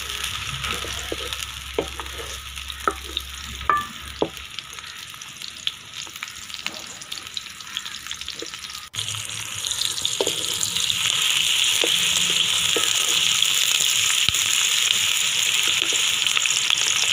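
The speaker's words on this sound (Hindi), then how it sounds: "सबसे पहले घी में आप प्याज डाल दें।" Onions sizzle in hot ghee in a pan, a steady frying hiss that grows noticeably louder and fuller about halfway through and then carries on evenly, with no talking.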